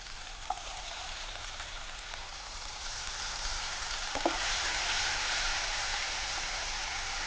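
Onions and tomato sautéing in a pan for sambar, a steady hissing sizzle that swells slightly partway through, with a couple of faint knocks from a utensil, close, no talking.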